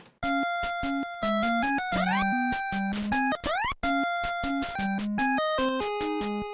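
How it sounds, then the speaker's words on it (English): Chiptune game music that jumps abruptly between fragments, with sudden cuts, brief gaps and rising sweeps breaking up the bouncy melody. "it actually sounds worse when it's edited, because then it's all chopped up"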